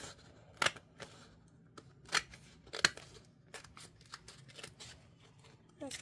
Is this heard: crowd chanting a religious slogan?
no